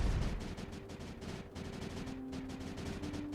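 Game units in Creeper World 4 fire steadily into creep, a dense run of rapid synthetic shots with a faint droning tone, continuous and fairly even in loudness throughout.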